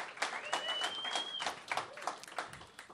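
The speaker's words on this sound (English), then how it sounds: "Yes, please applaud." Audience applause at a celebration honoring a startup leader, steady crowd clapping throughout with a faint whistle-like tone partway through.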